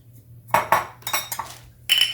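A utensil mixes seasoned shrimp with fresh herbs, salt and cracked pepper in a bowl, making a handful of close, bright clinks and taps in quick irregular bursts.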